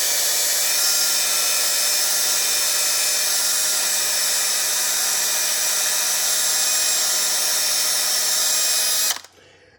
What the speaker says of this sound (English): We have a ball hone, and this is how I prefer to do it.